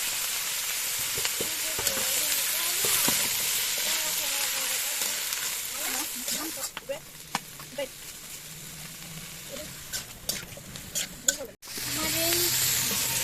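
Radish, cabbage and onion flowers fry in a pan with salt and turmeric, a steady close sizzle with stirring clatter, while someone speaks briefly over it.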